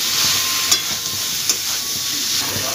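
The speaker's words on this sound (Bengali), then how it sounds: "এই পর্যায়ে আমি আলু আর এঁচোড়টা দিয়ে দেব। দিয়ে ভালোভাবে কষিয়ে নেব" Potatoes and jackfruit sautéing with spices in a pan for a Bengali jackfruit-prawn dish, giving a steady close sizzle with a couple of brief stirring clicks and no talk.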